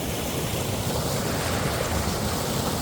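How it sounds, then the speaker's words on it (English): Raging rapids of floodwater pouring out of a pond after a massive storm, a loud, steady broadband rush of churning water close to the microphone with no talk. "We got these raging rapids."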